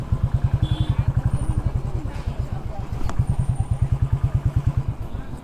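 A motorcycle engine chugs with a steady, rapid low thump at close range as the bike rolls slowly near the Ganga gate in Haridwar, with people talking over it.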